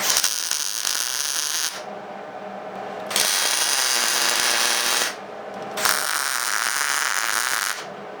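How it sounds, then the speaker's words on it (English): Tack welds on a steel bumper kit for a Jeep Comanche, three loud buzzing bursts of a few seconds each separated by short quieter gaps, no speech. "I'm just going to tack weld this in a couple of spots on both sides"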